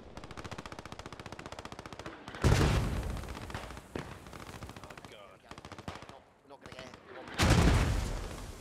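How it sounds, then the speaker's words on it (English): Heavy machine-gun bursts and German mortar fire in a Post Scriptum wartime battle, with rapid gunfire rattling steadily and two big thumping blasts standing out loud and close, a voice talking over parts of it. "They have majority of machine guns up as well. Those German mortars are doing a good job pushing back the Allies"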